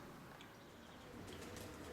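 Pigeons coo softly and continuously at a dovecote, faint and somewhat distant in the open air, with a few brighter calls near the end.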